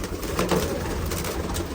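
Pigeons being released from a coop, cooing and fluttering close by, a steady murmur of bird sounds with faint background noise throughout.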